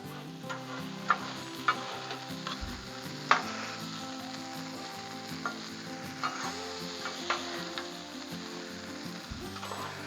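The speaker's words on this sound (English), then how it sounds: "Let's stir up this chicken here a little bit." Chicken bites sizzle steadily on a hot Blackstone griddle while a utensil stirring them scrapes and clacks now and then, giving occasional sharp knocks over the constant frying hiss.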